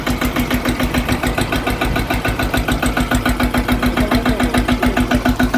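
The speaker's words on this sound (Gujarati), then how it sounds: "ટ્રેક્ટરનો અવાજ પણ એકદમ ટનાટન છે ચૌદ હોર્સ પાવરનું એન્જિન છે એટલે એકદમ ફર્સ્ટ ક્લાસ અવાજ આવે છે" A 14-horsepower mini tractor of about 510 kg, fitted with a PTO, runs at a steady idle close by, its loud engine thumping in an even, rapid rhythm with a strong low hum and no pauses.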